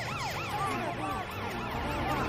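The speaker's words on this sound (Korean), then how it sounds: "경찰 사이렌이 길을 내줄 거야" Several wailing police sirens overlapping in rapid up-and-down sweeps, steady and moderately loud with traffic rumble beneath.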